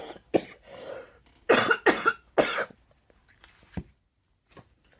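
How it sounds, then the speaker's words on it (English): An adult coughs several times in short, harsh bursts, close and fairly loud, with quiet gaps between them and a faint throat sound near the end. "Excuse me, coughing."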